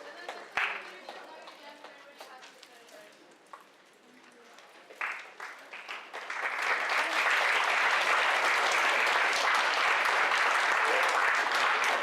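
At a leadership summit, scattered claps and talk give way midway to loud, sustained applause from an audience for a group that just presented, continuing to the end.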